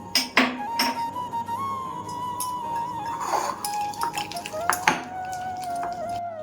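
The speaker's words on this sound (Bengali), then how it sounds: "এবার এটা ভালো করে মিশিয়ে নেব" Ginger and black pepper paste being mixed into paneer in a bowl for paneer tikka, with a few sharp spoon clinks against the bowl over a steady background hum.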